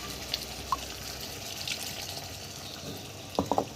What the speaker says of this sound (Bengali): সামান্য একটু এই বাটি জলটা দিয়ে দেবো,